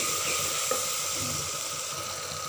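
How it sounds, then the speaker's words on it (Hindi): Masala of turmeric, red chilli and dried coriander sizzling steadily in a hot pan while being stirred, a continuous close hiss with a faint clink of a spoon, made as the base for cooking bhindi (okra). "ये देखिए अच्छे से मसाला भून रहा है"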